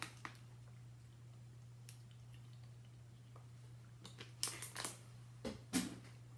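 A person sips water from a container, with soft wet swallowing and mouth sounds and a few small clicks and drips rising over a steady low hum in a quiet room, clustered near the end.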